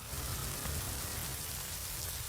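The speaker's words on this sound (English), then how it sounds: "We do have small hail coming down with the heavy rain." Heavy rain mixed with small hail pours down during a severe storm with a microburst, a dense, loud, continuous hiss of close impacts with no talk.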